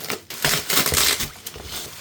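Packaging around replacement headlight lenses being cut open, a close, continuous crinkling and crunching of plastic wrap and card with bursts of tearing, no voice.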